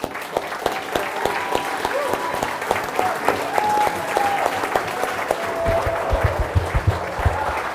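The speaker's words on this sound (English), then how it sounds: "people can give you a round of applause" A crowd applauds Nebraska BMX Hall of Fame members at a celebration event, steady and full clapping that continues throughout with a few sharper claps on top.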